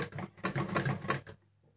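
A sewing machine stitches an elastic waistband, giving a fast, even rattle of needle strokes in short bursts for about a second and a quarter before stopping, close and moderately quiet.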